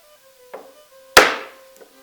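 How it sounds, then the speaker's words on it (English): A chisel chops a mortise into a wooden board, giving two lighter taps and one sharp, loud strike that rings out briefly, each blow distinct and close, with a faint tonal hum underneath. "I'm going to cut from either side, removing waste in the middle."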